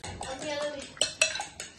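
Brownie batter is mixed in a bowl by hand, with scraping and stirring plus several sharp clinks of utensil against the bowl, close and fairly quiet.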